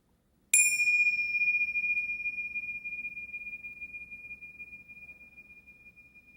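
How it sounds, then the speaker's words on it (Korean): A single meditation bell is struck once in a quiet room, giving a bright, clear ring with a sharp attack and a long sustained tone that slowly fades over several seconds under a faint low hum. "종소리 한번 치면 여러분 종소리 딱 끝나면 눈을 지그시"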